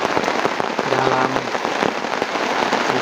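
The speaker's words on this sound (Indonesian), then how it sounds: "kita tinggal nikmati suara hujan" Heavy rain pounding on a campsite, a steady loud hiss of drops with sharp crackling hits on tarp and surfaces, continuous throughout with a brief low tonal hum in the middle.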